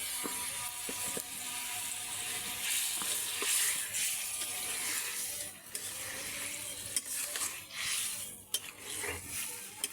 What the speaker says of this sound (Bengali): আগে মাছটা কষাবো,